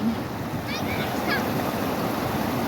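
Water current rushes steadily at an outdoor riverside spot, a constant broad wash with a gusty, windy edge, and a few brief faint voices or calls rising over it.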